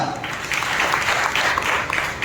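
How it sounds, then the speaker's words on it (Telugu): A congregation clapping during an evening united worship service in a church, dense continuous applause filling the space with a crowd voice or two mixed underneath. "చప్పట్లు బట్టి ప్రభువును మహిమపరుస్తాము"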